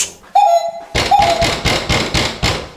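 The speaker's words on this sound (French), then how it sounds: "C'est la sonnette, ça" A short electronic doorbell tone rings, followed by a series of loud, rhythmic heavy knocks or thumps, about seven in quick succession.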